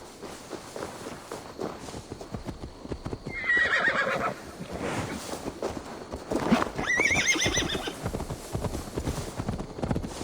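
A horse clip-clops along and neighs repeatedly in the video game Assassin's Creed Valhalla, with hooves steadily walking close by and whinnies rising twice over the footfalls.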